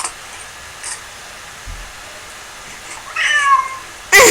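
A cat gives a short meow near the end, following a quiet stretch with faint background noise and a brief louder rustle at the very end.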